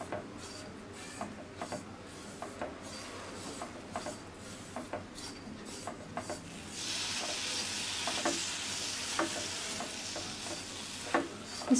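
A spoon scrapes and stirs a coconut laddu mixture in a pan over low heat, rhythmic rasping strokes repeating every second or so, then a louder steady sizzle and scraping in the later half, close with no talking.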